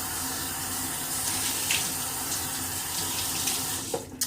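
Running tap water pours steadily into a sink while shaving soap is rinsed off, a close, continuous hiss with splashing that cuts off near the end.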